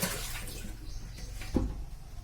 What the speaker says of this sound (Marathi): एक नूळ आहे तो नळ चालू करून ठेवते जेणेकरून त्यातून पाणी अर्ध काढून टाकेल